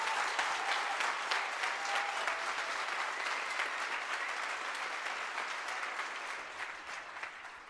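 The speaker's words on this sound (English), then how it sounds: "this is your applause for this event" Applause from a school audience in Leverkusen, Germany, for an astronaut aboard the ISS, a broad wash of clapping hands that holds steady and slowly fades toward the end.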